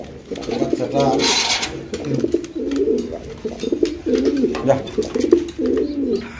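A pigeon pair with chicks, the male feeding them, coos in low, throaty, rolling calls, close and steady throughout, with a voice briefly talking over them.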